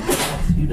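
A single short sneeze bursts out indoors during a maple sugarhouse tour, close and abrupt under a noisy background.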